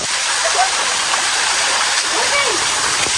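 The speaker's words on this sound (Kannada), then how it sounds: "ಇಲ್ಲಿಂದ ಹೋಗಿ ಅಲ್ಲಿ ಬೀಳುತ್ತೆ ನೀರು" Steady roar of rushing water from a waterfall, broad and constant, with a person's voice briefly audible over it.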